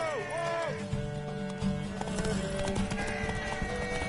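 Horse hooves clip-clop in The Witcher 3, a steady trotting rhythm with a brief whinny near the start, set against a layered game soundtrack of sustained tones.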